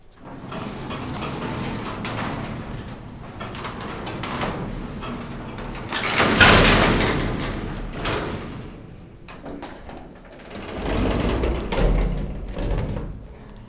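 Heavy counterweighted doors on an old Century II passenger or freight elevator rumble and slide in two long, noisy passes, with mechanical clatter over a steady background hum.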